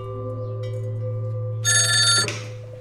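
A telephone rings during a phone call in a Chinese wartime espionage drama. A single loud, bright ring burst lasts under a second over a steady low electrical hum, then fades back to the hum.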